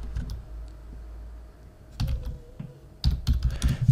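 Bursts of typing on a computer keyboard, close and clear, with quick clustered key clicks separated by short pauses and no talking.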